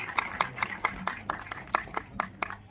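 A small audience at a press conference in Delhi for the Ek Villain Returns star cast claps steadily, with a handful of sharp, evenly spaced hand claps close by and no cheering.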